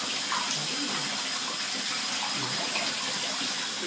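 Water splashing and running steadily in a baby's bath, a continuous close, bright wash of sound with no break.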